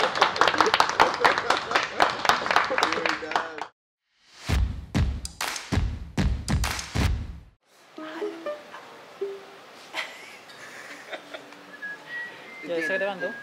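Live audience clapping and cheering at an acoustic ukulele music session, a burst of loud applause with whistles that rises between stretches of singing and talk, then fades into chatter.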